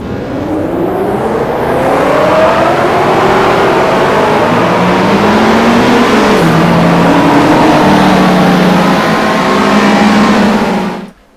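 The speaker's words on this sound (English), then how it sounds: "So let's have a look at the starting order as they roll around on the warm-up lap." Touring cars from the 1987 British Touring Car Championship roll around Snetterton on the warm-up lap, a loud, continuous blend of engine drone and whining revs from several cars, rising and shifting in pitch before cutting off.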